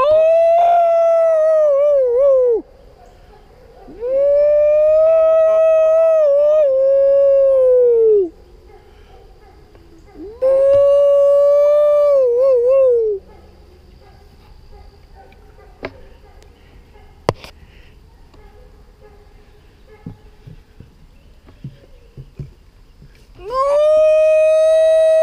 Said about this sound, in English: I got him barking.